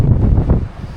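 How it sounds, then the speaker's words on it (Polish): Loud wind gusts buffet the microphone on a stony beach at Santa Cruz, Madeira, giving a brief, full, rumbling roar with no voices. "Wiaterek wieje"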